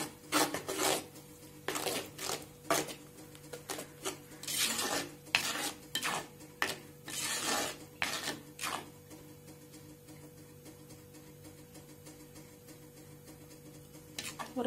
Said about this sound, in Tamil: இந்த மசாலாவை வந்து நம்ம 2 நிமிஷம் வதக்கணுங்க